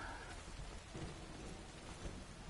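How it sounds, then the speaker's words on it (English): Rain and thunder from the video game Neverwinter on PS4: dense, steady rainfall fills the whole stretch with a low rumble of thunder rolling underneath, loud and enveloping, with no voices. "I really noticed the raindrop sound before."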